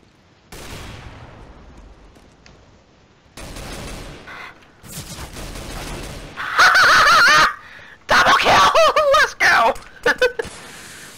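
Gunfire in the online shooter CS:GO, irregular bursts and sustained loud firing building over several seconds, mixed with clipped, chaotic game effects.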